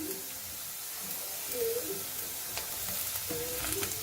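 Green and yellow capsicum with cabbage tossed in a wok over high flame for veg chowmein: a bright continuous sizzle with quick stirring scrapes and light clatter, fairly soft overall.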